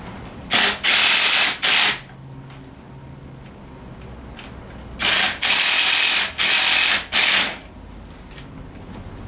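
Bolts on the handlebars of a Tao Tao 110 Racer ATV are snugged up with a ratcheting tool, in loud bursts of rapid clicking: three short runs, a pause, then four more.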